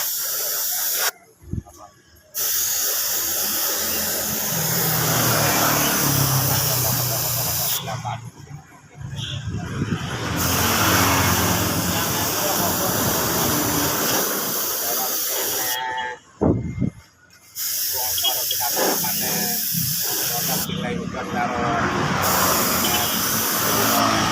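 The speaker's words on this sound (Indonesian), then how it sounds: "langsung kita semprot saja seperti ini" Orange paint sprayed straight onto a Beat motorbike body panel without primer, a steady loud hiss in long bursts broken by short pauses, with a voice talking faintly underneath.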